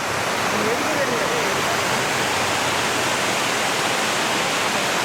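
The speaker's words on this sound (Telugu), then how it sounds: "ఏదైనా న్యాచురల్గా వచ్చే వాటర్ ఫాల్స్ అది వేరుగా ఉంటుంది" Cheeyappara waterfalls near Munnar, Kerala, roar steadily and loudly, a dense, unbroken rush of falling water, with a faint voice barely audible beneath it.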